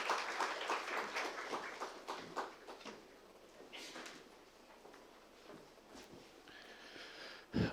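Conference audience applause as a speaker is called to the stage, a burst of clapping that is strongest at first, then thins out into scattered claps and faint room noise.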